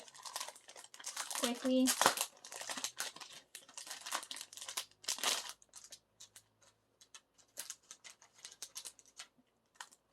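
A packaged K-pop album with photo cards being unwrapped, with close crinkling and rustling of plastic wrap and packaging in bursts, under a person talking.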